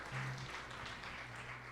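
Church congregation applauding, a steady wash of clapping from a crowd that runs the whole moment without a break, with a low sustained organ or keyboard tone underneath.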